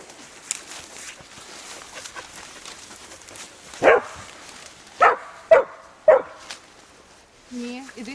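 A Wolfspitz dog barks several times at a short distance, sharp separate yaps over quiet background, with a person calling out softly between them.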